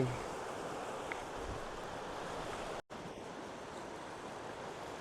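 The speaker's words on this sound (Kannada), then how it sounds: "ನಮ್ಮೂರಿನ ಸಮುದ್ರ ತೀರ" Sea waves wash steadily onto the seashore at Madigudde beach near Bailur, Koppadamakki, a continuous broad surf roar with wind noise at the microphone and a brief dropout midway.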